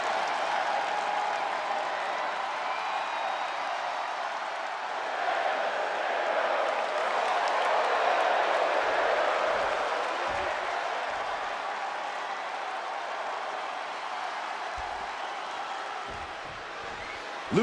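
Steady crowd applause and cheering fill a wrestling arena for Rey Mysterio in WWE 2K24, a continuous wash of clapping that swells slightly midway and then holds at an even level.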